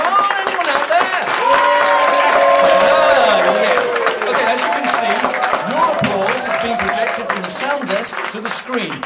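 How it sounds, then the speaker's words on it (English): A village-hall audience applauds loudly for a clapometer test, dense clapping and crowd noise running the whole way through with voices talking over it. "If you could all now applaud, please. Come on, louder."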